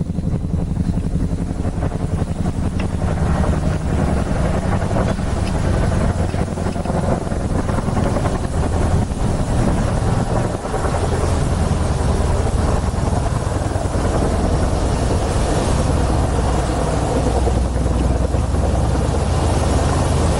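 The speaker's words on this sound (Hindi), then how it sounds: "सुखोई लड़ाकू विमान, चिनूक हेलीकॉप्टर्स उड़ान भरी और एलएसी पर ये साझा युद्धाभ्यास किया गया है।" Chinook helicopters and Sukhoi fighter jets flying during a joint Army and Air Force military exercise near the LAC in Ladakh, a loud continuous broadband roar of rotors and engines sustained throughout, with no talk.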